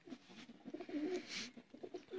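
Soft, low cooing of Sialkoti pigeons repeats in several throaty phrases, close by, with light background noise and no talking.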